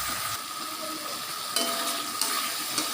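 A spice paste of mustard, garlic, green chili and ginger fries in a pan, giving a steady close hiss of sizzling with occasional sharper spatters and stirring scrapes.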